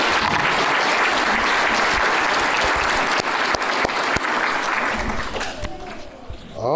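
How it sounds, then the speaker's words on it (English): Applause for adult education graduates at a class of 2024 graduation ceremony, a loud, dense crowd clapping that carries on for several seconds, then thins and fades toward the end, with a voice starting over the last of it. "let's make sure we give one more round of applause for our graduates"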